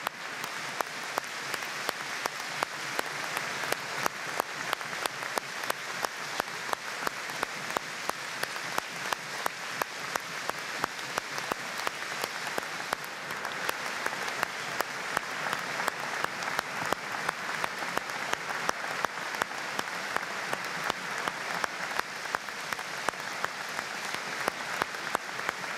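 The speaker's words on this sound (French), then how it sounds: "Une minute d'applaudissement en hommage à Lucien Mias." A stadium crowd at a Montpellier–Toulouse rugby match gives a sustained minute of applause in tribute, thousands of hands clapping in a steady, rhythmic roar that carries on evenly from start to finish.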